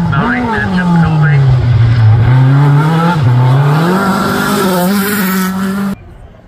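A Pilbeam race car with a 4-cylinder 2.8–2.9 litre engine at the Craigantlet Hillclimb 2024, a loud close engine drone holding a steady pitch that dips slightly through gear changes before cutting off abruptly.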